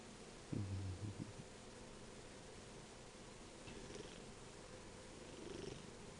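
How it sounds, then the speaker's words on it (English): A kitten purrs loudly and close, a steady low rumbling drone over soft background noise and faint rustling. "Hey, you purr loudly,"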